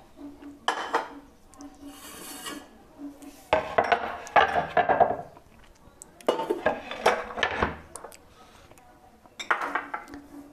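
In a kitchen where sweet bread balls are made, a cutting board is lifted and set down among dishes, giving several hard wooden knocks and clattering scrapes in uneven bursts, close by, with a little quiet talk.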